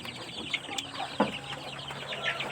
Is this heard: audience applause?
no